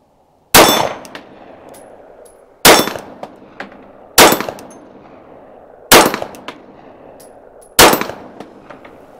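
Pistol shots ringing a steel gong target at a steel range, the gun zeroed for 25: five sharp, loud metallic clangs spaced about two seconds apart, each with a short ringing decay, and no talking.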